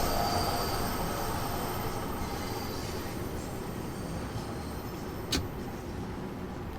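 A London Underground Bakerloo Line train in Zone 1 of Train Sim World 3 rounds a tight curve: steady rumbling wheels with high, sustained flange squeal and a brief sharp clack near the end.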